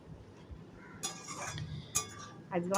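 A Bengali dry curry of kharkol stems with potato, jackfruit seeds and pointed gourd is stirred in a pan, with a few separate metallic clinks and scrapes of a spoon against the pan over a quiet background.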